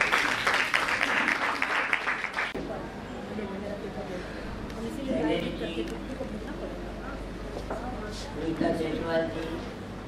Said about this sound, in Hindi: प्रोफेसर राजेश कुमार सिंह जी, तालियों से स्वागत कीजिए।